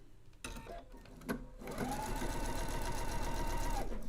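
A sewing machine stitching a quarter-inch seam runs in a steady, rapid mechanical whir after a few short clicks and a brief start, close and alone with no voices.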